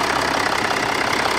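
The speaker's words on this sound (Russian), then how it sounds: "двигатель работает" Range Rover Sport 3.0 engine idling steadily right after a fuel filter change, a close, continuous mid-pitched hum with even rhythmic pulsing and no talk.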